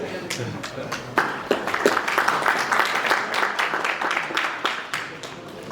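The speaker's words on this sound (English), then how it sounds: "So round of applause for him, please." A seminar audience on Chinese investments in Zimbabwe gives a round of applause: scattered, uneven claps fill the room at moderate loudness, with voices mixed in.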